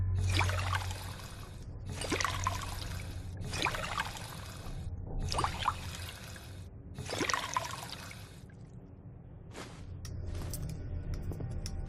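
Purified water pours into bottles in Fallout 4, five steady splashing fills of about a second and a half each with short gaps between, followed by a few softer clinks and trickles, close and fairly quiet with no talk.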